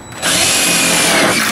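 A power drill drives a self-drilling screw into a school bus panel during an extended stop arm install, starting abruptly and whirring loud and steady up close.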